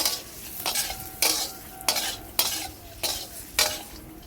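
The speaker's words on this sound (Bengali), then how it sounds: "ভালোভাবে নেড়ে নেব" Spices and Kashmiri chilli powder being stirred in a frying pan, with about seven rhythmic, evenly spaced scraping strokes of a utensil over a soft sizzle, close and clear, with no talking.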